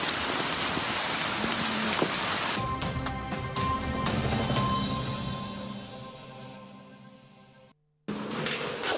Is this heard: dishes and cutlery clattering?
no